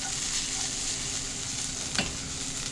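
Potatoes sizzle and crackle steadily in oil in a pan, a constant frying hiss with a brief louder crackle near the end, no talking.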